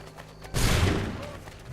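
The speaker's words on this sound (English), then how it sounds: "they're out there shooting civilians?" A sudden loud burst of gunfire hits at once and then rumbles away, as soldiers shoot at civilians in the Assassin's Creed III video game. Dense, close and heavy.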